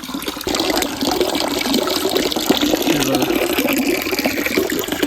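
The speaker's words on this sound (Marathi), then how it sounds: "पाणी चालू असतं हे बघा" Fresh water runs steadily from a tap or outlet at a washing spot at a picnic ground, a constant splashing flow that continues throughout, with voices faintly talking in the background.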